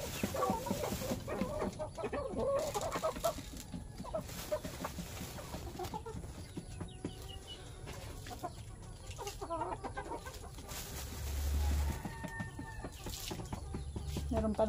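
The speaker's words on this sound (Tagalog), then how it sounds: "Parang yung inahin ay hindi na masyadong tunog inahin." A mother hen clucks repeatedly in short, soft calls amid the rustle and scattered chirps of a farmyard, with faint background noise throughout.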